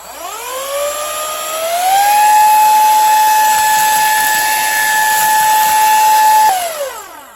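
Haimeec C6 Mini handheld vacuum cleaner with a brush attachment sucks up a small mess: its motor whine climbs quickly to a loud, steady high-pitched hum, holds for several seconds, then drops away as it switches off.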